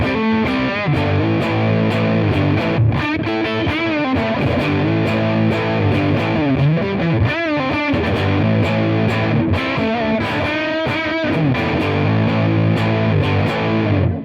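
Electric guitar played through a Tate FX Sirens Scream distortion pedal, a RAT-style circuit, with its tone control turned fully down, giving a continuous, thick, dark and woolly distorted riff with sustained chords and bends, loud and alone.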